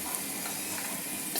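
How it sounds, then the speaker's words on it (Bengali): Cashews and raisins fry in hot oil in a pan, making a soft, even sizzling hiss that carries on alone at low volume through the short stretch. "কাজু কিশমিশগুলো আমার কিন্তু ভাজা হয়ে গেছে।"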